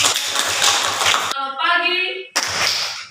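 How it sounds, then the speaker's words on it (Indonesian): A short burst of clapping from a grade 7 class applauding a student group, broken briefly by a voice, then the clapping resumes before fading. "Tepuk tangan untuk kelompok 3"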